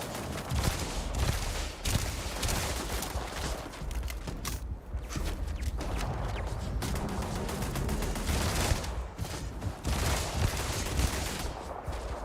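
Sustained bursts of rapid automatic gunfire from a shooting video game, dense and loud throughout with no pauses.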